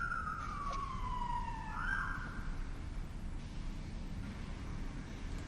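Faint ambulance siren passing in the distance, a single wailing tone sliding downward and then fading, quiet and thin beneath steady background noise.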